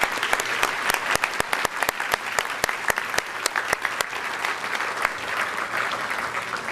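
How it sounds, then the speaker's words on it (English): An audience at a coaches' honors ceremony claps steadily for executive director John Leonard, a dense sustained round of applause punctuated by sharp individual claps throughout. "Please join me in giving him a great round of applause for all of his wonderful, tireless work that he does."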